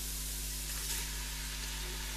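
Steady, close sizzling of diced tomatoes frying in a hot pan, an even crackling hiss with no talking.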